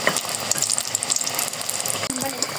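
Pitha rice cakes fry in oil with an uneven, crackling sizzle mixed with clicks and scraping, close by, and a brief voice murmur near the end.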